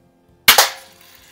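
A single sharp crack from a 1933 Daisy No. 195 Model 33 Buzz Barton Special gravity-feed BB gun being fired, close and loud, with a quick second snap and a short decaying tail into near silence.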